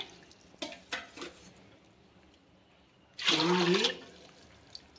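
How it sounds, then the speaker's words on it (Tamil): Cups of water poured into a cooking pot for sambar rice; faint knocks come first, then one loud, close, splashing pour of about half a second. "அதனால் 5 கப்பு தண்ணி ஊற்ற போகிறோம் பாருங்கள்"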